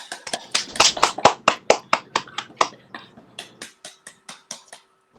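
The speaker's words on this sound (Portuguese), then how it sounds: "Uma salva de palmas, viu?" Audience applause for a professor at a lecture on SARS-CoV-2 vaccines, heard as a short run of sharp, closely spaced hand claps that thin out into a few scattered, fading claps toward the end.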